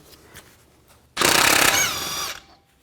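A power tool with an 18mm socket spins off the tie rod stud nut on a 2002-2006 Chevy Avalanche front end, a loud rattling impact burst of about a second and a half after quiet background.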